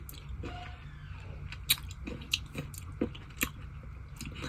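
Pistachio kunafa chocolate being bitten and chewed up close, with a handful of crisp crunches standing out over soft, moist chewing and no talking.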